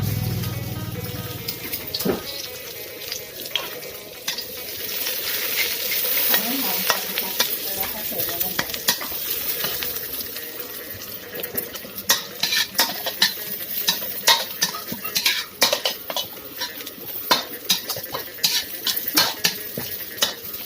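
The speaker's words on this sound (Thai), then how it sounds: "ได้ตำพริกที่แหลกไว้แล้วก็เอาไปผัดกับน้ำมันก่อน" Pounded chili stir-frying in oil for beef pad kra pao, a crackling sizzle with frequent metallic spatula clanks and scrapes against the pan that grow busier toward the end, close and alone.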